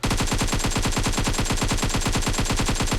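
Sustained automatic gunfire from behind in PUBG Mobile, a rapid, steady stream of loud sharp shots fired without pause.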